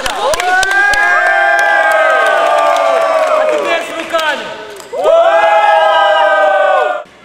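Handball fans roar in the stands at a women's final-series match involving Rostov-Don: loud sustained shouting and chanting from a large crowd, dipping briefly midway and then surging again before cutting off.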